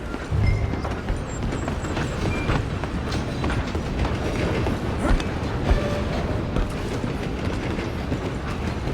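A steam train from the Red Dead Redemption 2 video game rumbles along the tracks with continuous clickety-clack wheel noise and rolling clatter, loud and steady throughout.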